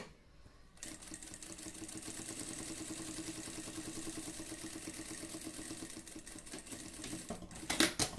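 Sewing machine running a continuous stitch on fabric, including a reverse stitch, a steady close whirring clatter for several seconds that ends with a few louder clicks.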